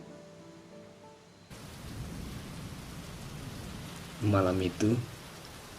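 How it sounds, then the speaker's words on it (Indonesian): Steady rain pouring on a surface with a low rumbling roll of thunder, a dense continuous hiss under a few spoken words from a woman. "hujan turun lagi"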